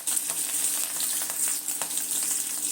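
Green chillies and curry leaves sizzle in hot oil with mustard seeds for a drumstick flower stir-fry, giving a steady, close, crackling hiss throughout.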